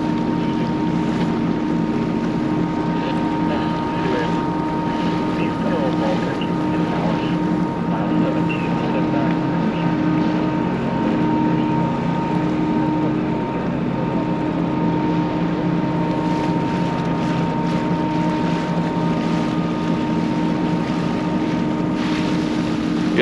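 Low, steady engine rumble of the large ship Algoma Guardian approaching a wharf carries on throughout, mixed with wind buffeting the microphone and distant harbor noise.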